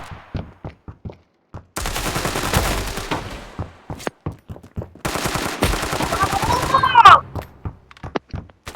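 Video game gunfire comes in two sustained automatic bursts, each a dense rapid rattle lasting about two seconds. Separate sharp single shots and thuds are scattered around the bursts.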